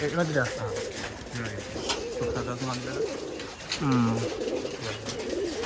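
Rajshahi Giribaz pigeons coo in repeated low, rolling phrases, close and clear, while people talk over them.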